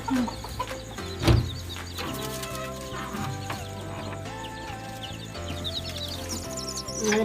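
Young four-colour chicks brought from Coimbatore cluck and cheep close by, with repeated calls over a busy background and one brief loud knock near the start.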